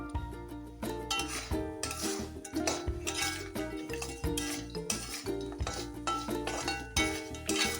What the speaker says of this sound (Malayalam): ഇനി നമുക്ക് പൊടിച്ചു വെച്ചിരിക്കുന്ന ഈ പൊടി കുറേശ്ശെ ചേർത്ത് ഇളക്കിയെടുക്കണം